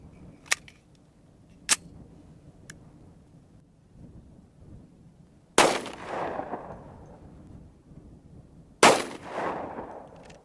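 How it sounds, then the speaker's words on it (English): Two loud, close 10mm pistol shots fire Speer 200gr Gold Dot rounds at an outdoor gel test, each a sharp crack with a booming tail. A few fainter clicks and knocks come before them. "the first shot that I fired"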